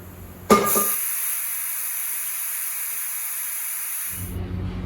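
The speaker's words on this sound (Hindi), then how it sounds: "और फिर 1 सीटी आने तक वेट कर लेना है हमें।" A pressure cooker on the stove lets out a single loud, steady hissing whistle while jackfruit curry cooks inside, starting abruptly and holding for about three and a half seconds before cutting off.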